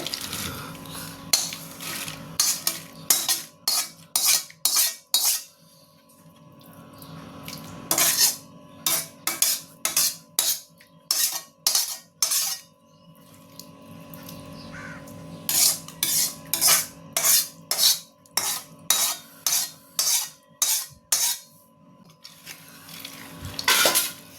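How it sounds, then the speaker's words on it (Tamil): Cashews are fried in ghee and stirred for bread halwa, a metal spoon clanking rapidly against the pan in repeated bursts, close and loud, with a crow cawing faintly in the background. "இப்போ முந்திரி பருப்பை போட்டுக்கலாங்க. நெய்யில் வறுத்து"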